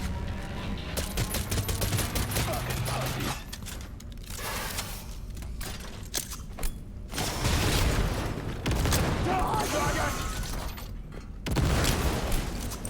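Cyberpunk 2077 combat with grenade explosions: loud booming blasts mixed with dense bursts of gunfire, continuous and chaotic over the whole stretch, with brief drops between volleys.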